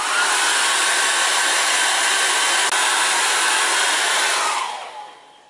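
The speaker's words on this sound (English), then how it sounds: "I'll just go over this section once more with the air dryer" A hair dryer blows loudly and steadily over an acrylic painting with a constant whooshing roar, then shuts off and winds down near the end.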